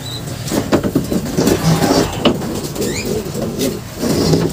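A young racing pigeon, kept as a future breeder, gives soft, low cooing calls close by, with faint background noise and brief chirps from other birds.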